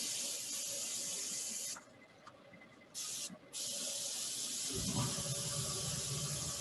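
Paint spray hisses heavily through a stencil at a woodturners' demonstration, a loud continuous blast that cuts off briefly twice, then resumes with a deeper rushing tone.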